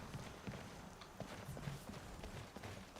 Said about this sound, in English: Skyrim horse ride